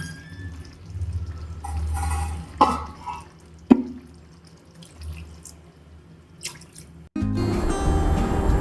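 Water is poured into a pan of chicken pepper curry, giving a few drips and splashes over faint sizzling. A sharp clink follows, then a louder, steady rush of water near the end.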